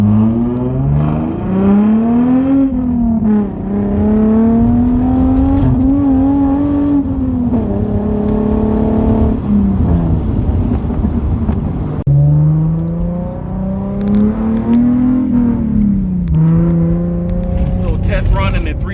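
A Hyundai Genesis Coupe 3.8 fitted with test pipes revs repeatedly, its raspy exhaust note climbing and falling in loud, close pulls with a pause between bursts.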